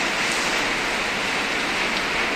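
Heavy rain pours steadily in Hyderabad, a dense, continuous hiss of drops striking surfaces that stays loud and even throughout, with no voices.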